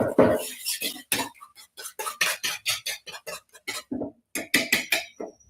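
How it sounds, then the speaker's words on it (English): Eggs and sugar whisked in a bowl, a quick run of clinking metal-on-bowl strokes in a fast, slightly uneven rhythm, close and clear, with a brief pause partway through. "give those a quick whisk just to get that sugar mixed in"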